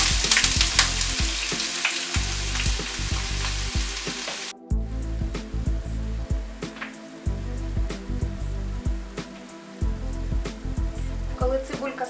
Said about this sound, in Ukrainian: Тим часом підготуємо грибочки, обсмажуємо цибулю.